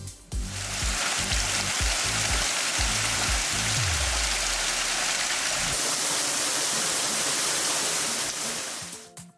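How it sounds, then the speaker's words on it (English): Nojoqui Falls near Solvang, California, trickles over mossy rock as a constant, dense rush of falling water. Early on, low rumbling thumps break through. The sound is loud and steady throughout, with no one speaking. "even though the water wasn't coming down like Niagara Falls, it was still really pretty to watch it trickle over the mossy covered surface."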